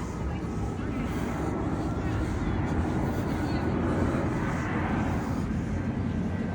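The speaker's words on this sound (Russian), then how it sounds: "Самолет он садится на посадку." An airplane coming in to land near Sochi, heard as a steady, broad low roar that holds throughout, mixed with wind buffeting at an outdoor spot by the sea.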